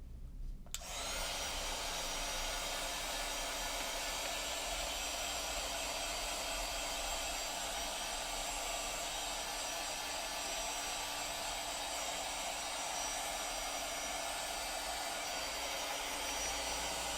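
A hair dryer blows steadily to dry paint on a wooden pizza board, a loud continuous airy roar that starts abruptly and holds unchanged for the full length, with no talking.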